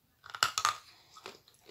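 Close, crisp crunching of meringues being bitten and chewed, several sharp bites in quick succession followed by softer, quieter crunches as chewing continues, with no talking.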